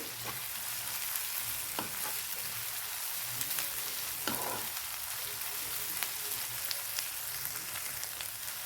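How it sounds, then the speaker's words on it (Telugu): Dried shrimp fry in oil for a spicy elephant foot yam curry, a steady crackling sizzle with scattered sharp pops and occasional stirring clinks, alone without voices. "ఈ ఎండు రొయ్యలు కొంచెం ఆయిల్లో వేగటం వల్ల టేస్ట్ బాగుంటుంది."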